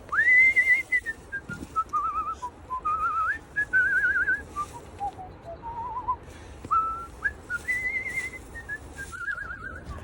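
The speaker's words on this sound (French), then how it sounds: "Tu veux faire ta stories de moi qui siffle?" A person in Iceland whistles a wandering, melodic tune in clear tones, with brief trills and warbles, continuing throughout over faint background noise.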